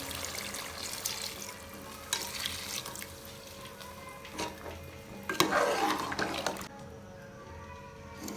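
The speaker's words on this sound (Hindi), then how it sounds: "जो हमने चने बॉईल करते हुए चनों का पानी निकाला था वो इसमें ऐड कर देंगे।" Reserved chickpea boiling water is poured into a pan of potato and chickpea curry and stirred, giving soft splashing and scraping in short bursts, with quiet gaps between.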